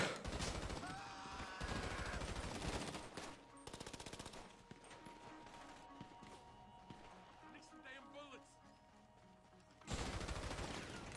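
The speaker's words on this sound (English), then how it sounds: "I should probably get out the SMG" Rapid SMG gunfire in GTA Online, loud sustained bursts of automatic fire up front with a second burst near the end, mixed with game action sounds and a voice talking over it.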